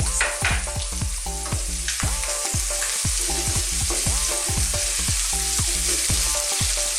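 Shrimp and capsicum sizzle loudly in a pan for sizzling gambas, a steady close crackle broken by repeated rhythmic scrapes and stirring knocks throughout.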